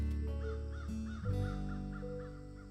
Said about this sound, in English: it was a mother crow and her children, and they stopped eating berries and flew away saying, "Caw, caw, caw."